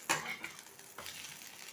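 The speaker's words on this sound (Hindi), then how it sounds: "इसे फ्राई होने देते हैं।" Chopped jackfruit sabzi frying in a kadhai and being stirred, with a sharp scrape of the spoon against the pan, then a softer second stir over a steady close sizzle.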